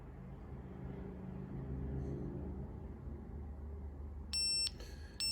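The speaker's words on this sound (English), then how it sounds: "we're hearing a level 1 alarm" A FLARM collision warning level 1 alarm sounds in a glider cockpit as two short bursts of a bright, loud electronic tone over a steady low rumble of wind and airframe noise.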